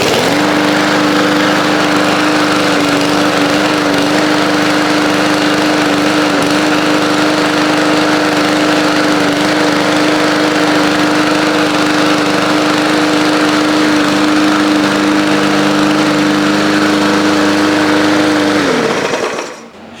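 An old broken lawn mower engine, running just after starting, drones loud and steady with a rough, uneven edge, then cuts out and fades at the very end.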